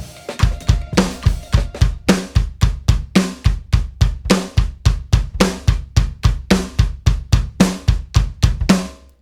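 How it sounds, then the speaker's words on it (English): A slow, steady drum pattern of kick drum and rim clicks, with a snare hit landing on the third beat of each measure, played cleanly and loudly with no talking. "you're going to play the snare, and it's going to be on every single measure on the 3"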